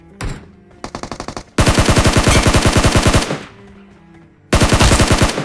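Automatic gunfire in a battle royale video game, several sharp rapid bursts of shots, a short one, then a longer sustained volley, a pause, and another burst, loud and close with no talking.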